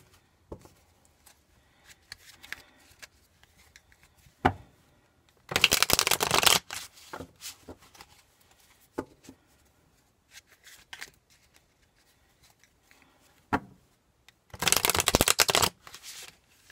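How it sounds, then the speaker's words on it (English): Two bursts of cards being riffle-shuffled, each about a second long, with scattered soft taps and card handling in between; no talking. "Now I'm going to go ahead and get to shuffling."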